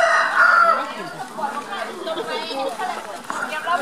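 A rooster crows at a market in Luang Prabang, Laos, loud and close at the start, with busy market chatter and voices continuing beneath.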